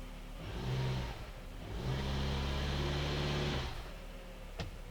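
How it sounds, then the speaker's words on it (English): A 2006 Honda Element engine revs up twice in reverse gear while checking a transmission mount, each rise a few seconds long, close by and steady, followed by a sharp click. "Now we'll go for reverse, so the motor will rotate the other way."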